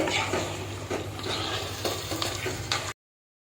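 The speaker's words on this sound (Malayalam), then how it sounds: "എല്ലാം ചേർത്ത് കൊടുക്കാം നല്ലപോലെ ഇളക്കി യോജിപ്പിക്കുക" Chicken curry masala with garam masala being stirred in a pan, a steady scraping and gentle sizzle with a few soft utensil knocks against the metal, close up and continuous, with no voices.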